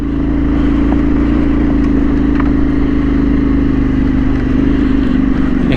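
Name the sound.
motorbike engine revving, tyres spinning up a hill trail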